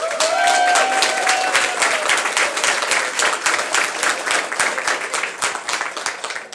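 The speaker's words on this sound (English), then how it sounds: "give them a round of applause" Audience at a library budget address breaks into loud, dense clapping that starts at full strength and tapers slightly, with a brief voice heard at the very start.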